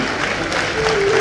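Applause from the crowd at a university convocation for graduating candidates, a dense, loud wash of clapping that holds steady and builds slightly, with faint crowd murmur beneath.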